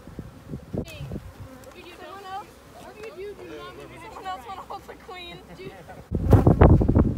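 Honey bees buzz close by, wavering drones weaving in and out, with wind buffeting the microphone and some people talking nearby, as bees are packaged for shipping.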